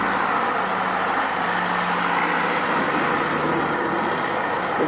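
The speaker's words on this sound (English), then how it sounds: "You can hear the snowplow working in the distance." A snowplow works somewhere off in the distance during cleanup after a blizzard, a steady broad engine and road rumble that holds at an even level throughout with no voices.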